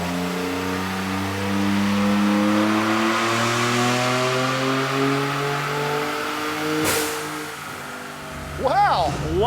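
A twin-turbo V6 Ford F-150 truck, modified with a dealer tune, revs hard on a dyno, its engine note climbing steadily through a long loud pull before a sharp chirp and falling whine at the end.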